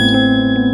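A notification bell sound effect rings out as a single bright ding, loud and alone, its clear sustained tone holding steadily for the whole short moment.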